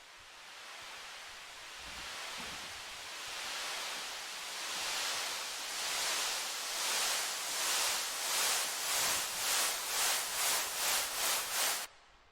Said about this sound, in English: a really interesting tool to add variation to your simple white noise